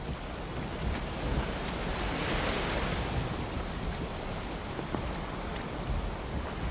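Wind blowing at sea in the video game Valheim, a steady, loud broadband rush with a gentle swell in the middle and no speech.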